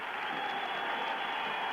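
A boxing crowd at the Ken Buchanan vs Frankie Otero fight roars and applauds on its feet, a dense, steady wash of cheering and clapping heard from within the arena with no break.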